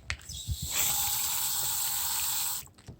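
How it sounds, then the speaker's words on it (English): Water pours steadily onto a potted panda succulent in soil, a close gushing stream lasting about two seconds, with light handling clicks before and after. "I'm going to water it a little bit"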